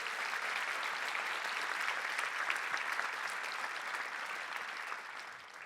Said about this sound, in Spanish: Dale un fuerte aplauso, por favor.